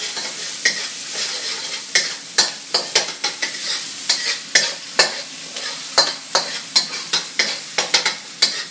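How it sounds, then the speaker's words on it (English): Oil sizzles in a hot wok while a utensil scrapes and stirs it around, in repeated sharp strokes over a steady frying hiss. "It's really all you're doing is spread it around in the wok."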